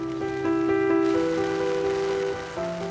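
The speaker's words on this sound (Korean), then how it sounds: "오늘은 하루 종일 비가 내리고 있다" Steady rain falls on Sakhalin through the day, a constant close hiss of drops on surfaces with no voices, while tonal hum lines run underneath.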